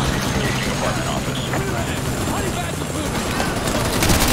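Rapid gunfire in Call of Duty Modern Warfare 2 Remastered: loud, dense machine-gun bursts and shots roll on without pause, with a voice talking underneath.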